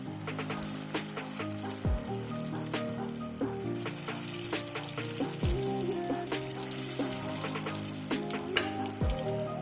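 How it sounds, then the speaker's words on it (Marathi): Sweet corn pakoda batter frying in hot oil: a faint, steady crackle and sizzle with scattered pops and clicks, fairly quiet throughout with no talking. "तेल गरम झालं की आपण त्याच्यामध्ये ह्या भजी छोट्या छोट्या सोडणार आहोत"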